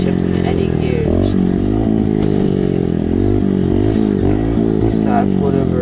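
Dirt bike engine stuck in second gear during a race, a loud, close, steady drone with wavering pitch as revs rise and fall, continuous throughout with helmet-camera rumble.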